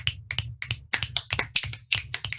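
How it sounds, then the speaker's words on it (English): Crisp finger snaps ring out close and clear, about a dozen in an uneven rhythm over two seconds, alone without any talking. "Snapping."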